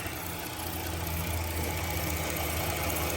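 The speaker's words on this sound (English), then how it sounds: "The only sound I'm hearing, it's coming from the alternator." A 3.5L V6 in a 2005 Chrysler 300 idles close to the mic, a steady mechanical hum and whir with a faint whine over it, continuous and even throughout.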